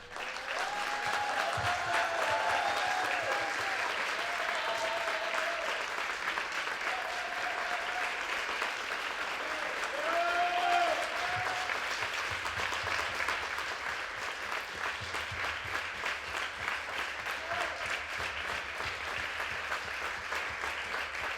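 Sustained audience applause fills a ceremony honouring an editorial career, dense and steady for about twenty seconds, with a few brief whistles and cheers rising above the clapping and no clear speech.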